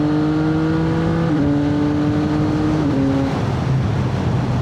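A CF Moto 675 SR-R motorcycle pulls hard on a main straight, its engine note climbing steadily through the gears with brief dips at each upshift, loud and close throughout without any talk.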